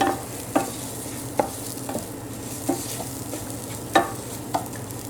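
One cup of rice is seared in oil and stirred in a pan, a soft continuous sizzle with several sharp spoon scrapes at irregular intervals, close and without voices.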